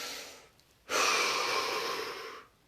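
A single deep breath is drawn in near the microphone during a guided relaxation session, following a short quiet pause. The steady, loud airy rush holds for about a second and a half, then cuts off abruptly. No one speaks.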